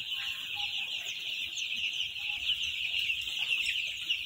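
Chickens cluck steadily against a dense, constant high-pitched hum of a henhouse with young chicks, with no talking.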